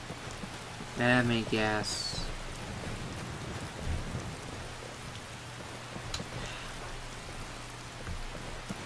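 Steady rain hiss falls in the Skyrim video game, with a low rumble under it and a voice speaking briefly near the start.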